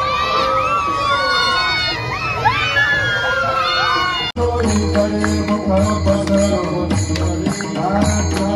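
A large festival crowd at a Datta Jayanti celebration in Savad, loud and dense with overlapping voices, children shouting and cheering, then a cut to a busier, clattering section with mixed crowd noise and possible music.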